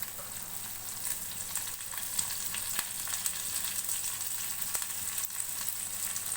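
Small onions and curry leaves fry in oil in a pan for mutton chukka, giving a steady, fairly quiet hiss and crackle with a few faint sharp pops and no talking.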